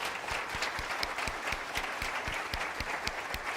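An audience claps for Dr. Ben Edwards after a health talk, quiet distant applause with a few sharper nearby claps standing out in an even rhythm.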